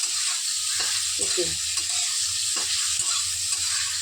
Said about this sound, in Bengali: পনির ভেজে এই পনিরগুলোকে একটু হালকা ভেজে দিলেই